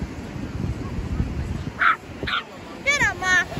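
A dog barking outdoors at another dog: after a stretch of rustling background noise come four short, bright barks in two pairs, fairly close and loud.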